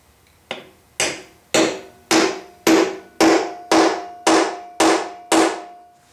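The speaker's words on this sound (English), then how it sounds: "I have to use my transfer punch first." A hammer strikes a metal transfer punch to mark steel, ten sharp, ringing blows in an even rhythm, each one decaying quickly with a metallic ring.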